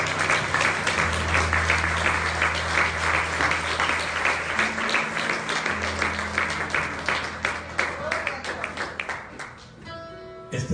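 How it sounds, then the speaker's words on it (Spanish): A church congregation claps together during a Spanish-language service, steady applause over a sustained organ or keyboard chord that fades toward the end, with a brief musical tone closing it. "Que das usted un aplauso."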